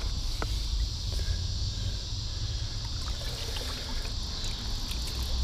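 Someone wading through a shallow creek, with water trickling and swishing in a constant wash beside a steady high insect drone.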